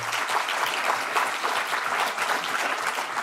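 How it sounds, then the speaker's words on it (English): An audience at a National Poetry Month gala claps for a partner organisation. The applause is loud and steady, with dense clapping throughout and no voices over it. "Round of applause for Guardian Australia."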